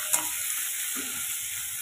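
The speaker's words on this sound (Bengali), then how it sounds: "একটুখানি নেড়ে দেবো ভালো করে, দাগ লেগেছে কিনা" Potatoes frying in a pan get a brief stir, a soft scrape over a faint steady sizzle, close and quiet, with no talk.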